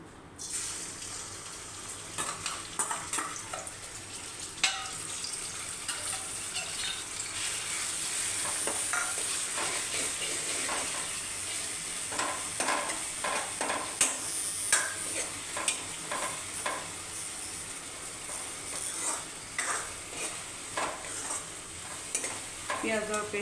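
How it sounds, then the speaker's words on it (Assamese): Onion paste sizzles steadily in a hot pan while a ladle stirs it, with scraping clinks and bursts of frying crackle running throughout, close and moderately loud, and no talking. "পিঁয়াজৰ পেষ্টটো দিলোঁ মই ইয়াতে"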